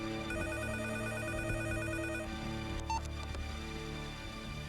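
A telephone bell rings in an indoor film scene, a bright repeating electronic ring that sounds for about two seconds and stops, followed by a brief click as the handset is picked up, moderately quiet.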